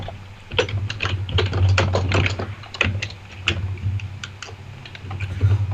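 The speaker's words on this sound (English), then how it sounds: "maybe mute yourself when you're not speaking, because your keyboard is loud" A loud computer keyboard clatters under fast, irregular typing during a livestreamed coding session, the dense clicks close and prominent over a low background hum.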